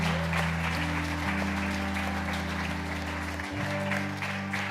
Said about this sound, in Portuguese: Dê um forte aplauso a Jesus.